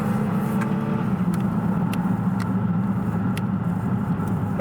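A 2022 Hyundai Elantra N with a dual-clutch transmission, driven in manual mode, its engine rumbling steadily under throttle from inside the cabin, loud and continuous with faint ticks and no talk.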